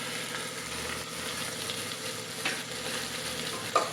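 Rice sizzles steadily in a hot pan as it is sautéed with turmeric and biryani masala for masala bhaat, a continuous close frying hiss with occasional stirring scrapes and a sharp clink near the end.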